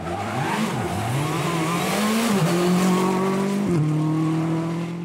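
A Peugeot 207 Super 2000 rally car blasts along an asphalt rally stage, its engine revving and rising through gear changes with a brief tire squeal, loud and close, alone without voices.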